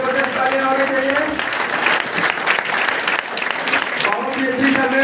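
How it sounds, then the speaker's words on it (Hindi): A meeting audience on its feet claps loudly and continuously, dense applause filling the room throughout. "सभी लोग खड़े होकर के जबरदस्त ताली होनी चाहिए"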